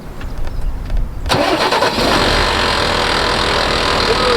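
A Massey Ferguson 244 Drott three-cylinder tractor engine, thought to have a crank problem, cranks and catches at once, then keeps running in a steady, loud, close diesel idle.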